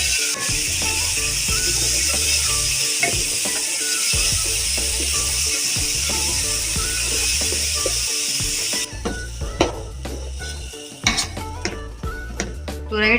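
Ridge gourd hits hot spiced oil in a pan, giving a loud, steady hiss of frying that stays strong for several seconds, then drops to lighter crackling with the clink of a spoon stirring.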